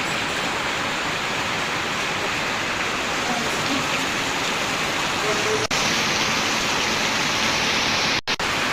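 Heavy rain pours steadily onto a construction site where a roof slab is being built, a loud, dense, unbroken hiss throughout with no pauses.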